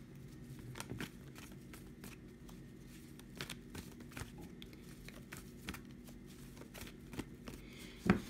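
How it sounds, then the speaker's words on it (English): Soft, steady riffling of tarot cards being shuffled up close, with scattered light taps and flicks and one sharper rustle near the end; no talking. "you're going to be shuffling the cards first and choosing few cards for today."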